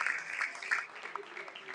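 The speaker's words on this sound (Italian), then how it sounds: "gli applausi del Matranga sono tutti per lui" Fans in the stands at the Matranga stadium during a Castellammare versus Licata Eccellenza Sicilia football match applaud player Colantoni, a distant, faint spatter of clapping mixed with crowd noise and a voice.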